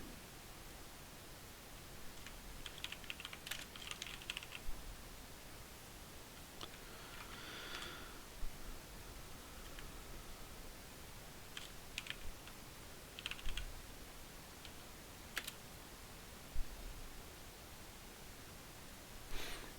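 Keys clatter on a computer keyboard in short, uneven bursts of tapping separated by quiet gaps, close but soft over a steady background hiss, with no talking.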